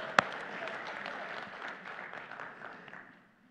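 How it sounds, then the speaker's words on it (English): A church congregation applauds after a cue from the pastor, a moderate, fairly distant patter of many hands that tapers off and fades to quiet over a few seconds. "Put your hands together and clap for them."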